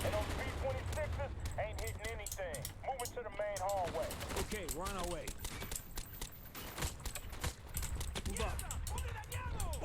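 Rapid muffled suppressed gunshots from Call of Duty: Black Ops pop in bursts throughout, mixed with talking voices and game sounds at a steady, busy level.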